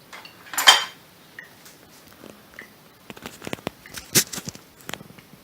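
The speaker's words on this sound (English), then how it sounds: "I'll mash them up some more with the fork" A fork mashes bananas in a bowl for banana bread, with an opening clink, then irregular soft scrapes and sharper metallic taps against the dish, close and without talk.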